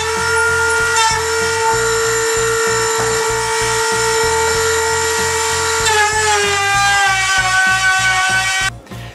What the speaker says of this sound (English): now I'm going to use my Dremel router table and try to add edges on this one